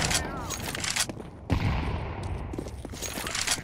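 Gunfire in Counter-Strike 2 on the new Overpass map comes as bursts of rapid, sharp shots that crackle and overlap throughout, with a heavy blast near the middle and game noise filling the gaps.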